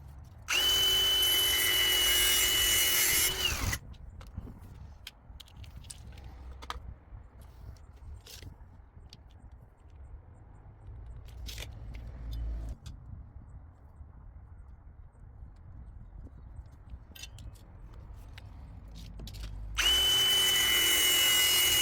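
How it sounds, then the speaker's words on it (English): An angle grinder cuts PVC angle trim pieces in two loud, steady whining bursts at the start and end, separated by a long quieter stretch of scattered clicks, taps and handling noises. "I did do it with the grinder"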